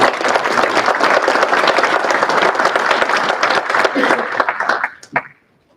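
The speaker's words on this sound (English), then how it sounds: "one big round of applause for all of our individuals" Graduation ceremony audience gives a big round of applause for honored individuals at Ohio Northern University, sustained loud clapping with a few cheers, stopping abruptly near the end.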